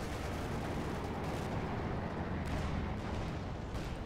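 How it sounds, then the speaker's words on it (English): Tank gunfire in a Company of Heroes 2 match, with steady, loud battle noise and rumbling blasts and impacts rolling continuously, with no voices heard. "Shots being fired, shots bouncing off both tanks."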